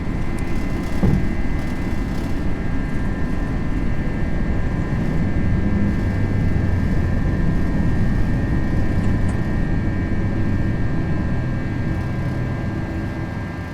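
FSLabs A321 jet engines at takeoff climb power in a flight simulator game drone as a loud, steady low roar with a thin constant whine above, easing slightly toward the end, no talk.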